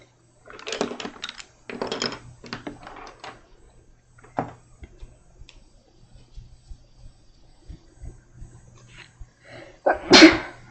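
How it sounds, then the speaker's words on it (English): A single sharp sneeze bursts out near the end, loud and close, after some quiet rustling and soft handling noises. "I sneeze a lot in this room"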